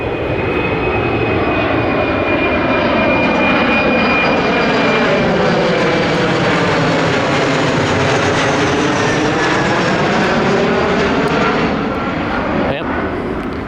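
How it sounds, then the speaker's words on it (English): An airliner passes low overhead on the approach path to a runway beside Falls Park in Sioux Falls, a loud, sustained jet roar that swells and fades slowly across the whole stretch. "every now and again we'll get a plane flying over"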